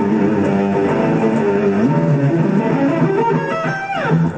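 Electric guitar playing the opening part of a blues instrumental, a fast run of clear, loud single notes with quick pull-offs and bends, alone without talking.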